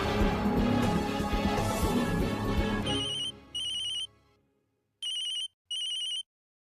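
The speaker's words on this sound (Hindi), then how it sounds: "चल फोन उठा।" A home telephone rings in an Indian TV drama, two pairs of short electronic ring bursts sounding clearly after a loud, crashing music cue fades to silence.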